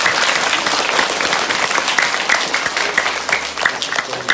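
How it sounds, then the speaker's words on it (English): A college awards ceremony audience claps steadily and fairly loudly for several seconds. The applause is dense and sustained, with no voices rising above it. "Give him a clap, guys."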